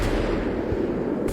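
Grenade explosions in the video game GTA: heavy, booming blasts and rumbling reports rolling together, loud and dense, with no talk.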